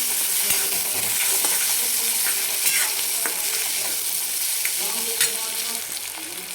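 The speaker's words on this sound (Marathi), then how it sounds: "आणि आता आपण याच्यामध्ये चणा डाळ टाकणार आहे हरभऱ्याची डाळ छान ह्याला परतून घ्यायची" Chana dal sizzles loudly as it is sautéed in a pan, with a constant close hiss and repeated spatula scrapes and clinks, no voices.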